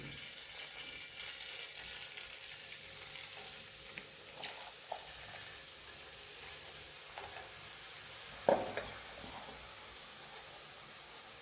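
Spinach fries in butter in a pan for an omelette, giving a soft, continuous sizzle with occasional faint clicks and a small stir or clatter of a utensil, quiet and close.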